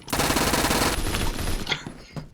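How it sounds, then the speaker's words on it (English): Two submachine guns fired at once in a video game let out a dense, continuous roar of rapid automatic fire that tapers into a few last sharp shots near the end. "Dual wielding SMGs, yes sir."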